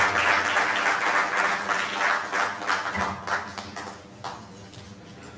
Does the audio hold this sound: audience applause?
yes